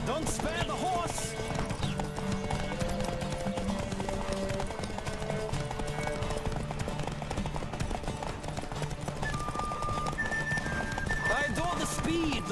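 A horse galloping in The Witcher 3 video game, steady fast clip-clop hoofbeats running throughout under game music, with voices calling out and occasional neighs.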